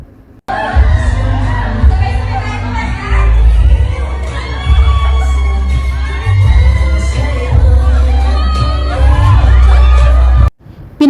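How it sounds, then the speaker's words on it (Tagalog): Fans at an event for the pair Inigo and Sofia scream and cheer in sustained loud, high-pitched waves, a packed crowd shrieking close by with a deep thumping beat beneath, cutting off abruptly near the end. "lalong kinilig at hiyawan ang mga fans nang makita nila sina Inigo at Sofia"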